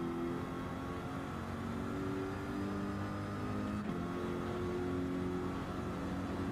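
A race car engine in the Gran Turismo 7 video game drones steadily throughout at a constant loud level, its tone shifting as it revs, with no talk over it.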